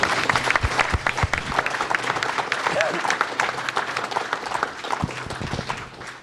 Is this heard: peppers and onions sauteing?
no